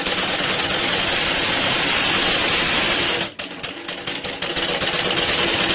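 A sewing machine runs fast and steady while stitching a petticoat seam, a dense whirring chatter that stops abruptly partway through, then starts again with a few slower stitches.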